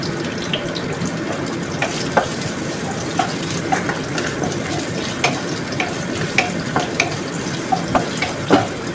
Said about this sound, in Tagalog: At tayo magigisa na guys. So unahin ko guys ang onions.